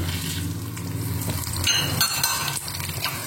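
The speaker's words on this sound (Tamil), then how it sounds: "இது கொத்தமல்லி வரைய இந்த எண்ணெய் காஞ்சுட்டு இதுல போட்டுக்கிறேன். கடலைப்பருப்பு, மிளகா வத்தல்" Coriander seeds, chana dal and dried red chillies sizzle steadily in hot oil in a pan, with a close, continuous crackle and a few light clinks of stirring.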